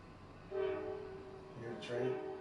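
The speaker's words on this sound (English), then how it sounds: "You hear the train?" A distant train sounds its horn in two sustained, steady blasts, the second overlapping a faint metallic screech, over a low rumbling background.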